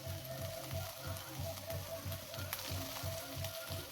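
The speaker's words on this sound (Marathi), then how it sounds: "मिरची छान कांद्यात मिक्स झाली पाहिजे असं छान परतवून घेऊया" Onion, chilli and soaked kurdai sauté in a pan with a continuous close sizzle and a low repeating scrape as they are tossed.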